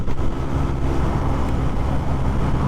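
A Suzuki Sniper 155R motorcycle with a replica Pro pipe exhaust runs at high RPM, giving a loud, steady, close-up engine drone mixed with rushing wind noise.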